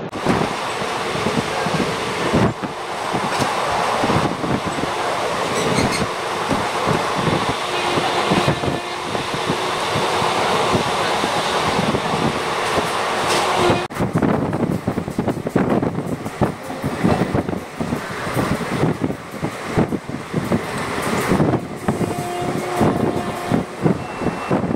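The Ganadevta Express from Howrah to Shantiniketan rolls on after leaving Bardhaman, a steady loud rumble with rhythmic wheel clatter and wind rushing past, heard from on board.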